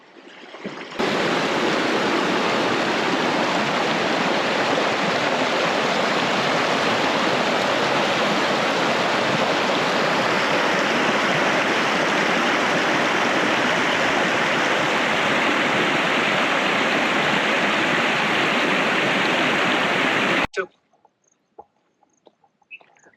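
Loud, steady rush of flowing monsoon water along the Pavagadh hill trail in Gujarat, a continuous broadband roar filling the clip before it cuts off abruptly near the end.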